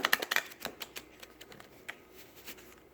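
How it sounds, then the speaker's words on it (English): A tarot card deck is riffle shuffled close up, a quick burst of crisp flicking clicks at the start that thins into scattered taps and soft card noises. "I feel like I'm getting better with a riffle shuffle."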